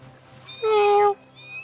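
A single short, high meow from a creature in the video game Spore rings out clearly over faint background noise.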